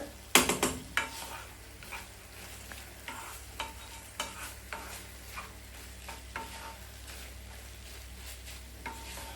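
Tomato rice is mixed with masala in a pan, the spoon scraping and tapping against the metal in soft, irregular strokes over a faint low hum, quiet and close.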